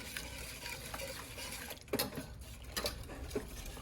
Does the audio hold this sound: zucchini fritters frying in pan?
yes